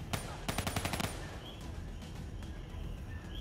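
Gunfire from the Call of Duty Black Ops 3 campaign sounds as a rapid burst of about a dozen sharp shots in the first second, then fades into rumbling battle ambience with faint distant pops.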